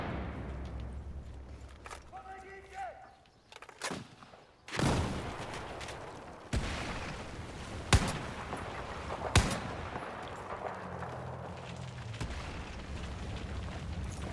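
Shooter video game gunfire: several sharp, loud reports spaced a few seconds apart, booming close over a low rumbling backdrop, with faint talk between shots.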